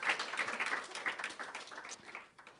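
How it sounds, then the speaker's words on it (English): Audience applause at a poetry lecture, with steady, dense clapping from a modest crowd that holds for a couple of seconds and then tapers off. "let's give him a round of applause."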